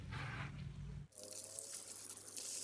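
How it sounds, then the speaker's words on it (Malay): Water rinsing a car radiator clogged with sand and small stones: a faint, steady rush of running water begins abruptly partway through and continues to the end, with a low hum before it, quiet and unaccompanied by talk. "Okey, kita bilas dengan air dulu."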